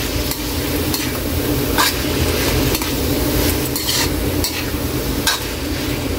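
Dinuguan, a Filipino pork blood stew, being stirred in a pot with a ladle, producing a steady close scrape and slosh over a continuous simmering sizzle, with no talking.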